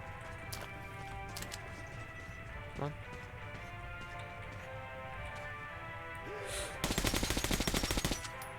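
A weapon fires in Metro 2033 Redux, with a rapid burst of automatic gunfire near the end and a single shot earlier, all over a low game soundscape and faint background voices.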